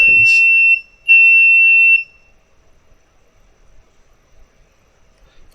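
A buzzer sounds two electronic Morse code beeps, one short and one longer, followed by near silence.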